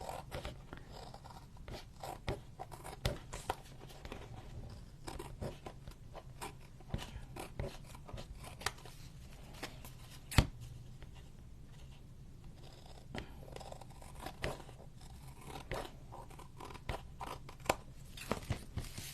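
Paper tag trimmed by hand with scissors: quiet, close snips and small crunchy cuts scattered irregularly over a soft background, with no talk.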